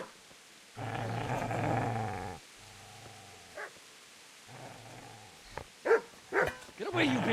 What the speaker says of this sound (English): Get away, you mutt!